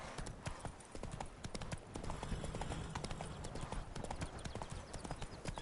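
The horse Roach gallops in a PS4 video game, with rapid, even hoofbeats in a continuous driving rhythm, close and clear for several seconds.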